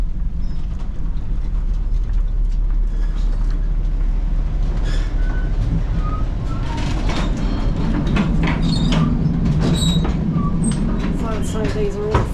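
Inside a moving passenger train on the Bergen to Oslo line between Voss and Oslo, a constant low rumble and rattle of the carriages fills the space, with clicks, squeaks and people talking in the background.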